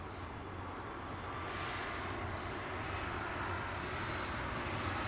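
An airliner on approach at Heathrow Airport, a steady, fairly loud engine roar with a broad rushing hum that holds constant and slowly swells, with no talk over it.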